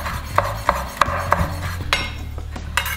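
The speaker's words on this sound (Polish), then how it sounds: "Pokroję je drobno i dorzucę do cebulki." Nut-flavoured kabanos sausages being finely chopped on a board, a run of four evenly spaced knife taps followed by softer scraping and clatter, close and fairly quiet, with no talk.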